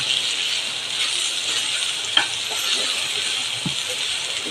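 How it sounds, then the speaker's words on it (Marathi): Rice grains roasting in a pan for a Maharashtrian tondli and pomegranate rice dish give off a steady, close, dry hiss, with a faint clink or two and no talking. "हे तांदूळ थोडे भाजून झाले की त्याच्यावर मी सगळं साहित्य टाकणार आहे"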